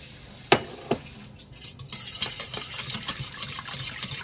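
Water pours into patishapta pitha batter in a bowl, a steady close splashing flow following two quick clinks of a container.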